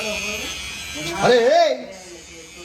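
Electric hair trimmer buzzing steadily during a haircut, its hum running throughout under excited voices, with a brief louder surge in the middle.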